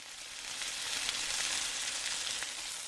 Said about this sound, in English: William is frying some sausages. No, it's chicken.